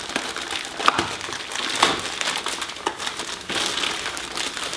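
Grey plastic mail packaging from a beauty retailer is crinkled, crushed and torn by hand, close and loud, in rustling bursts with sharp tearing peaks and no talk over it.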